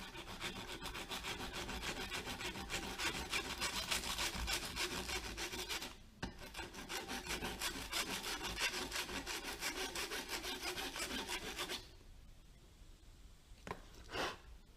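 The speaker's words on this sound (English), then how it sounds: "the file in no time can grind off the sandpaper and go right through to the" Steady abrasive rasping of a file and sandpaper working a spark plug's ground strap electrode on a 1964 Dodge Custom 880 project, continuous and close for about twelve seconds, then fading to quiet with a brief scrape near the end.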